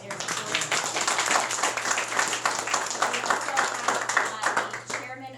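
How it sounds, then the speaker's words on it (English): Applause for city aldermen at a veterans' ribbon-cutting ceremony, a crowd clapping in a dense, steady patter that carries on for several seconds before tapering off, with a low hum beneath. "Give them a round of applause."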